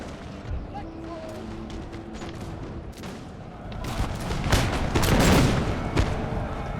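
Musket volleys crackle across a Total War: Napoleon battlefield in a Scotland campaign. Scattered distant shots build into a louder, denser rolling fusillade with heavy booms, and a voice talks over the early part.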